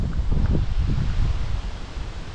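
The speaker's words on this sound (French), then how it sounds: "il y a beaucoup de vent ici" Strong wind buffets the microphone outdoors in Canada with heavy low rumbling gusts and a constant airy hiss, loud and close, easing slightly toward the end.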